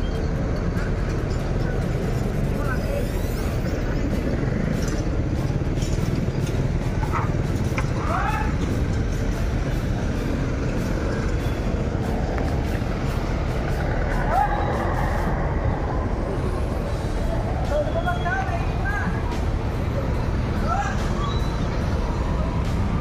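Vehicle arriving and pulling away on a busy roadside, a heavy engine rumble with an air-brake hiss amid steady traffic noise and crowd chatter, with people talking throughout.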